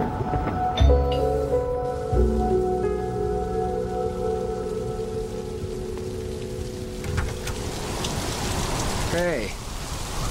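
Steady rain falls outdoors in a broad hiss beneath a layer of music and some voices. It carries on without a break for the whole stretch.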